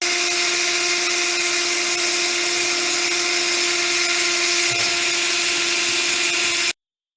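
A steady, loud mechanical whine with sustained tonal hum, like a power drill running continuously, then cutting off abruptly.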